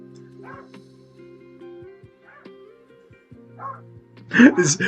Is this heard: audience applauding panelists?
no